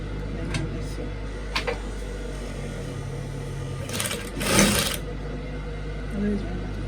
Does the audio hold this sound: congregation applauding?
no